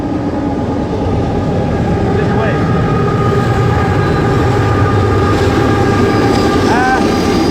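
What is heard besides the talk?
train passing by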